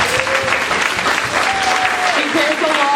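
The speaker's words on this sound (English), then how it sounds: "I think we should do a big round of applause." A room at a community labor council event breaks into a big round of applause for the event organiser, dense and loud clapping sustained throughout, with voices speaking over it.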